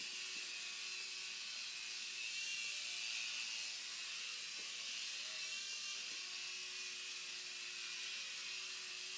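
Air Hogs Havoc Stinger toy RC helicopter hovering and spinning indoors, a steady high-pitched whining rotor buzz with small motor pitch shifts, fairly close and continuous throughout with no talking.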